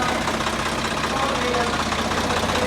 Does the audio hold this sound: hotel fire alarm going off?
no